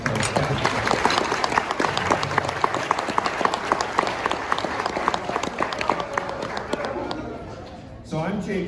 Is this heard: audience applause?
yes